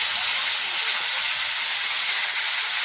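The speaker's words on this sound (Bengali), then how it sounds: "এটা একটু হালকা করে ভেজে নিই" Dried fish frying in oil with raw garlic and ginger paste, a loud, dense, steady hiss filling the whole moment close up.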